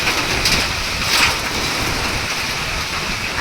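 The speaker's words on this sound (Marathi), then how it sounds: "आतमध्ये येतोय पाऊस, आहे ना, डेंजर आहे की आत पाऊस" Rain pouring into a home during a downpour, a steady broadband hiss of falling water with slight surges, fairly loud and continuous, no voices over it.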